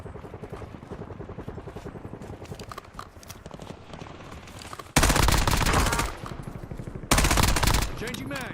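Gunfire in the shooter game Call of Duty: Warzone, with two loud bursts of rapid automatic fire breaking out after a stretch of quieter game noise and footsteps.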